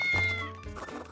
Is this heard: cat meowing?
yes